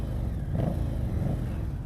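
A 2018 Indian Scout Bobber motorcycle with its stock exhaust gives a low, fairly quiet rumble, with two brief rises in engine note about half a second apart.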